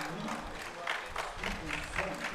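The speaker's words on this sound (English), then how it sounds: "you can see here the Taguig fans applauding" Taguig fans applauding at a PFL football match, a moderate wash of crowd clapping in the background with a few sharper bursts, mixed with faint crowd murmur.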